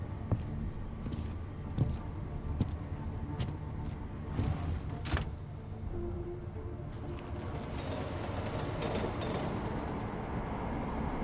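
A train pulls into a station in the video game Deus Ex: Mankind Divided, with a rolling rumble, sharp metallic clanks and clicks, then a rising hiss of brakes as it slows.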